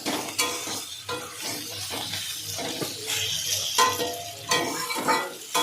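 Bata fish and pointed gourd curry sizzles in a pan while a spatula stirs and scrapes, with clinks of utensil against metal in an uneven rhythm.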